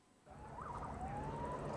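Emergency vehicle sirens respond to a major airliner crash, one faint, distant wailing tone rising and sliding over a low rumbling background with no talk.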